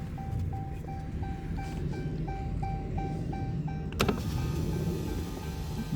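Power windows on a Dodge Dart hum steadily inside the car while a door chime repeats in regular beeps, followed by a sharp clunk partway through as the motor keeps running.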